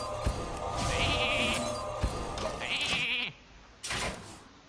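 Two stylised, synthetic sheep bleats from Hearthstone ring out one after another over a busy electronic game soundtrack.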